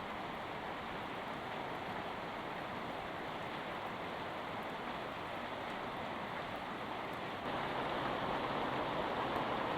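Constant soft hiss of rain falling, even and moderately faint, growing slightly louder near the end, with no talk.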